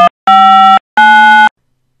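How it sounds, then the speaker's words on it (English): Three telephone keypad tones dialing the digits 1, 2 and 3, each a steady two-pitch DTMF beep about half a second long, separated by short silences, clean and alone. "what happens if you dial 1, 2, 3 on your keypad"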